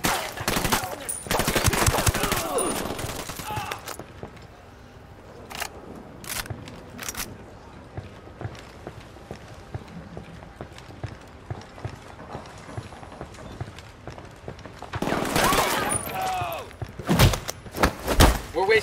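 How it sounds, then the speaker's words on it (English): Gunfire in the tactical shooter game Ghost Recon Wildlands: loud bursts of rapid automatic shots at the start and again near the end, with scattered single shots and voices talking in between. "I'm shooting these fuckers."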